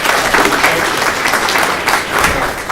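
A seminar audience on community paramedicine claps together in a loud, dense round of applause, close and continuous with slight surges throughout.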